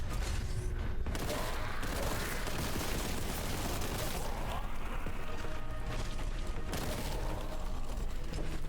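Bolt gun firing in the video game Warhammer 40,000: Boltgun, dense bursts of loud, booming gunfire over steady mechanical game noise, continuous throughout.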